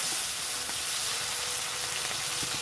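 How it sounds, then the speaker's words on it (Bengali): Finely chopped tomatoes hit hot fried spices in a pan, giving a continuous, even sizzle and hiss with no voices. "এবারে আমি ছোটো ছোটো দুটো টমেটো কুচি কুচি দিয়েছি টমেটো দিয়ে দিলাম"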